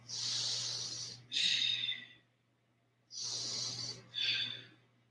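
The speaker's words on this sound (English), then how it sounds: "2 more breaths" Deep yoga breaths during a vinyasa flow: two slow cycles, each a long breathy inhale followed by a stronger exhale, close and clear over a steady low hum.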